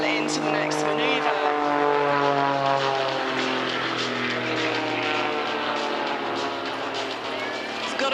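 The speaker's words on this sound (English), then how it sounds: "Rich is literally just pausing in the sky, going at 0 miles per hour, hanging the aircraft on the prop as he then tumbles down, gaining some airspeed" Rich Goodwin's Jet Pitts aerobatic biplane hangs on its propeller and tumbles at an airshow, its engine droning loudly with a smooth, shifting pitch throughout. An announcer talks over the steady roar.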